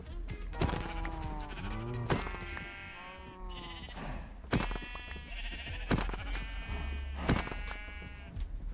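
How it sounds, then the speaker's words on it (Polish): Sheep in the Minecraft video game bleating several times in short, wavering calls spread across the stretch, fairly close, with faint game thuds in between and no talking. "4 owce są."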